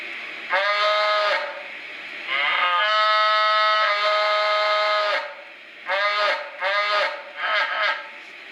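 Electronic mooing from a Lionel model train stock car's cow sound effect, several drawn-out tonal moos in a row, loud and close with brief gaps between them.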